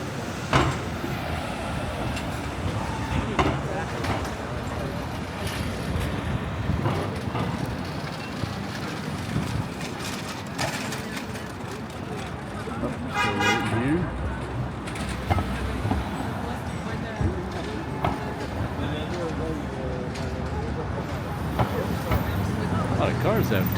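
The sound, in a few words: cars passing and honking on 7th Avenue, NYC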